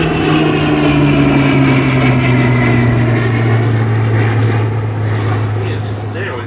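A Hawker Hurricane Mk. XII fighter roars past low and loud at Duxford, its propeller engine droning with a falling pitch as it goes by, under a commentator's voice over the loudspeakers.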